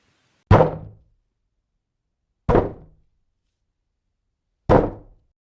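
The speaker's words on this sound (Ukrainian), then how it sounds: "А якщо постукати бруском об брусок, ми почуємо характерний звук." Three sharp, hollow knocks of one wooden block struck against another, evenly spaced about two seconds apart, each clean and close with a quick decay into silence.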